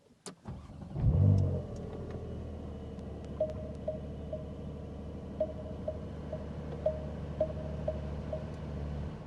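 A 2026 Porsche 911 Carrera 4S engine cranks and fires up with a loud rising roar, then settles into a steady, burbling idle with faint rhythmic ticking.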